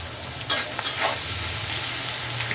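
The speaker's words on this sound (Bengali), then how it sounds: "মশলা কষানোর জন্য বসাই দিচ্ছি" Onion and spice paste frying in a pan for a prawn curry with local prawns, a continuous close sizzle with a few stirring scrapes early on, no voices.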